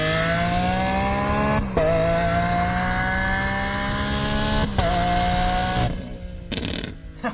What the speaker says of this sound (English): It has a audio clip of the car